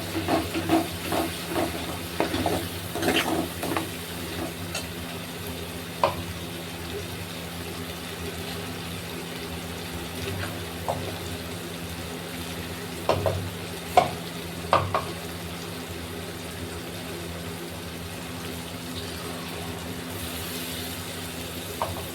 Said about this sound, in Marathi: आता जे वाटण काढलं होतं ते टाकायचं आणि चांगलं मिक्स करून घ्यायचं